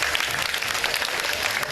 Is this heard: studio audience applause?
yes